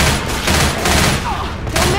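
Rapid gunfire in the video game Left 4 Dead 2, dense overlapping bursts of shots that run continuously and loud with barely a pause.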